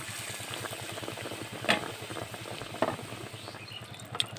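Bread slices coated in gram flour batter frying in a pan of oil, giving a steady bubbling sizzle with a few sharp pops, close and continuous.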